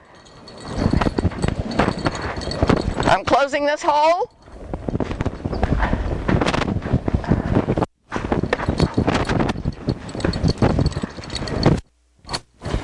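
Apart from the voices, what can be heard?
horses walking, hooves clip-clopping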